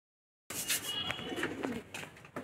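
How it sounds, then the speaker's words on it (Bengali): Racing pigeons coo in a loft, a few soft, close, throaty calls alone with no talk over them. "কবুতরগুলি একটু দেখেন আপনারা"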